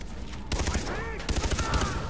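Rapid gunfire in the Far Cry 3 shooter game crackles in dense bursts, loud and close, pausing briefly before another volley, with a voice faintly underneath.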